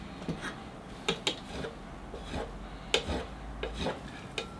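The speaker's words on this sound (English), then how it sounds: "I have finished the sharpening of my tool" Bonsai pruners being sharpened, heard as a string of short, dry rasping strokes at an uneven pace, fairly quiet and close, with no talking.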